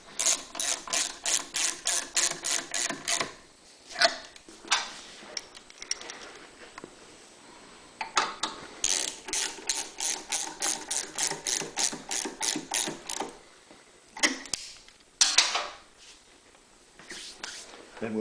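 A ratchet wrench clicks in rapid bursts while reinstalling the bottom studs on a Honda EU3000iS generator, quick ticking runs separated by short pauses, close and clear.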